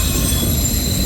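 A CSX autorack freight train carrying Southern Pacific and Conrail rolling stock rolls past near Sykesville, giving a loud, steady, close rumble with high metallic wheel squeal throughout.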